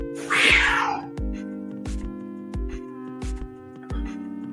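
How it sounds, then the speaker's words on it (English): Two cats fight and chase each other, a smaller one attacking a bigger one, opening with a loud, harsh yowl and followed by quieter cat noises over steady background tones and regular dull thumps. "Them cats going at it, boy. The little one beating up the big one."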